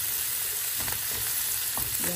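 Onions sizzle in a hot pan for Filipino pinakbet, a dense continuous crackling fry with a few soft stirring scrapes, close up and with no talking.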